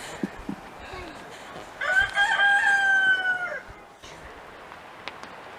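A rooster crows once, a loud drawn-out call at moderate distance, while chickens are out of their coop for the first time; soft rustling and faint clucks fill the quiet yard around it.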